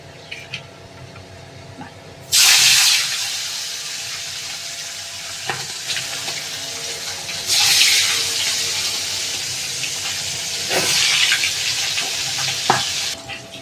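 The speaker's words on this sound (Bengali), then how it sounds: "কড়ার তেল গরম হয়ে গেছে, মাছটা আমরা ছেড়ে দেবো" Fish rubbed with salt and turmeric sizzles loudly in hot oil in a wok. Close, dense, hissing frying swells in strong bursts, then settles into a continuous crackle between them.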